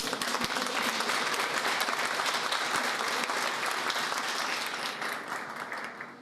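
Loud, dense audience applause at a local history gathering of a municipality's artists and artisans, sustained evenly for several seconds before easing slightly at the end.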